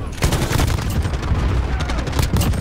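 Rapid, dense gunfire from an M91 light machine gun in a team-defender shooter video game, a loud continuous rattle of shots that keeps going across the whole stretch, with a voice faintly present underneath.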